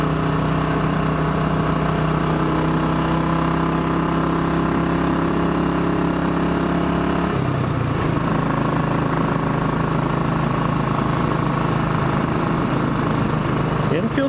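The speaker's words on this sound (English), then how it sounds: "Enfields like to be revved a bit." A Royal Enfield Bullet 500 Iron Barrel motorcycle engine runs steadily, a loud continuous thrumming drone that shifts to a lower pitch midway as the revs change, close and uninterrupted, with a voice partly heard under it.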